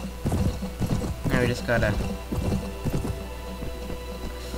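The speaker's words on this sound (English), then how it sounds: "Ooh, this horse is fast." Fast horse galloping in the video game Mount and Blade Warband, rhythmic hoof clip-clops in quick repeated beats with a brief whinny partway, while someone talks over it.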